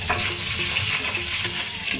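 Honey-coated pork belly, skin side down, fries in a pan with a continuous close crackling sizzle, briefly jostled, no voices over it.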